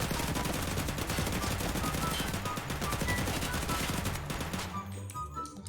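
Sustained automatic gunfire in the video game Escape from Tarkov on the Interchange map, dense rapid shots filling the whole stretch at steady loudness, easing slightly near the end.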